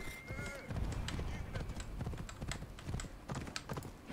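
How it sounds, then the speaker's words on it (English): Horse hooves clip-clop at a quick, steady gait in Assassin's Creed Odyssey, close and continuous, with a voice speaking over them. "I'm gonna mount this horse"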